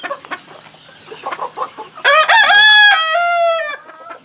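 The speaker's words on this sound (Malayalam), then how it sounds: "ഇത് ഓണകടോറി എന്ന ഇനത്തിൽപ്പെട്ട അലങ്കാര കോഴികളാണ്." An Onagadori ornamental rooster crows loudly and clearly in a long drawn-out call, following a stretch of softer clucking and scattered fowl noises close by on a poultry farm.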